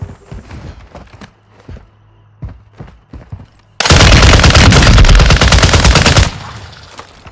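Sustained burst of rapid automatic gunfire in a first-person shooter video game, loud and dense for about two and a half seconds, preceded by scattered single shots, clicks and footsteps.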